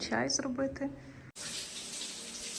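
Water from a tap at a mountain hotel, a steady hissing stream that starts abruptly after someone speaks and keeps flowing to the end.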